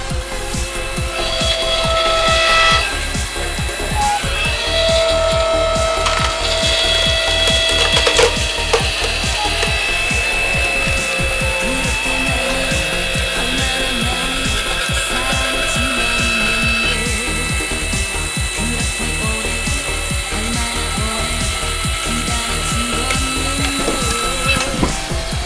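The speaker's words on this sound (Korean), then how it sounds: "이제 유압도끼로 한번 이걸 깨보겠습니다." An 8-ton hydraulic log splitter working through firewood, its engine a steady dense drone with a regular pulsing beat throughout, loud and close, with occasional creaks and knocks of wood giving way.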